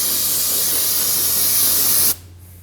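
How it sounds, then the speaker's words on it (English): Brake and parts cleaner sprays loudly and steadily onto a freshly bled front brake caliper on a 2003-2006 Subaru Baja, a close continuous hiss lasting about two seconds before cutting off abruptly. "After you bleed each caliper, it's good to clean it down with some brake and parts cleaner."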